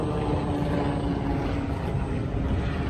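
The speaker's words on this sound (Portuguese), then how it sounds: "Ah, não é avião, é um helicóptero." A helicopter passes overhead, producing a loud, unbroken rumbling drone that fills the whole moment without a break.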